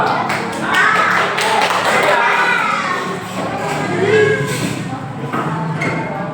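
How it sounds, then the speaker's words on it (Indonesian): Children in a classroom group clap for Group 2 at a school competition, a dense stretch of overlapping claps and taps with excited young voices chattering throughout. "Beri tepuk tangan untuk kelompok 2."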